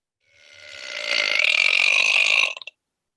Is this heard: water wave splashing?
no